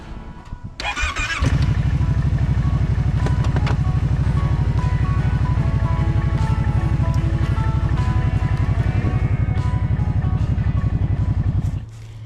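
A four-wheeler ATV engine starts with a short cranking burst, then runs at a steady, close, throbbing idle-to-driving chug for about ten seconds before it cuts off near the end; no talking.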